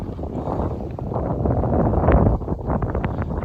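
Steady low rumbling wind buffeting an iPhone microphone outdoors, swelling louder for a moment before easing back, with no voices.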